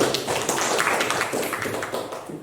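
An audience at a school presentation claps together, a dense close patter of many hands that swells briefly and then tapers off, with no voices over it.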